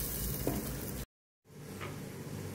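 Food fries in a pan with a steady broadband sizzle for about a second, cuts to silence, then the hissing frying resumes at a similar level.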